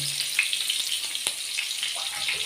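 Fish frying in a pan over low heat, a steady crackling hiss with occasional sharper pops, close and continuous.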